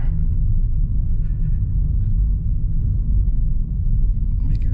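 A small-wheeled car rolls along Icefields Parkway in Banff National Park, giving a steady, loud low road rumble from inside the car, with faint bumps from potholes along the way.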